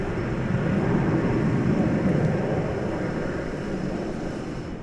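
An Aeromexico Connect Embraer 190 arriving from Mexico City at Dallas Fort Worth Airport gives off a steady, loud broadband jet roar that fades slightly near the end, with no voices.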